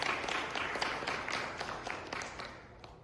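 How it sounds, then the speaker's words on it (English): Audience applause at a rural healthcare conference: a room of people clapping in a brisk, fairly faint burst that tapers off over a few seconds. "Why not we do a round of applause and some positivity to the"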